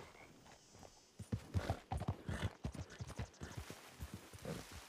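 Horse hooves in Red Dead Redemption 2 clip-clop in a steady, fairly quick rhythm close by, starting after a brief quiet moment and carrying on to the end.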